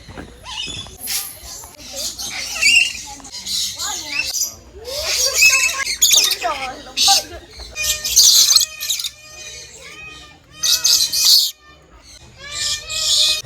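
Birds in a bird sanctuary at Cebu Safari, including scarlet ibis, give loud chirps, whistles and sweeping calls in repeated bursts, mixed with nearby human voices.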